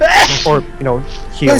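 A sudden sneeze bursts out amid close conversation, with voices talking just before and after it.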